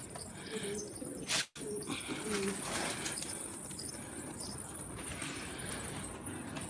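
Domestic pigeons kept in a loft give soft cooing calls against a steady background hiss, with a brief loud burst partway through; no one speaks.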